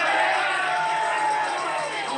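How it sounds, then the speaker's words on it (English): A stadium crowd at a Sligo county final Gaelic football match between Coolera/Strandhill and Bunninadden roars and cheers as a stretcher arrives for an injured player, a dense, sustained wash of voices that fades slightly toward the end. "That's what caused the cheer from the crowd."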